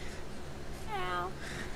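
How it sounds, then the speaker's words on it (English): A house cat gives one brief, faint meow, a short rising-then-falling tone heard through a steady background hum. "Oh, my cat just meowed."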